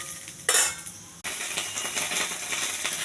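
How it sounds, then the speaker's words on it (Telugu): Cumin, mustard seeds and chana dal frying in a pan, stirred with a metal spoon: a sharp clatter of spoon against the pan breaks out briefly, then a continuous close sizzle and scraping carry on. "ఇవి దోరగా వేగించాలి."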